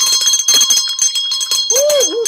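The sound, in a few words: bell being rung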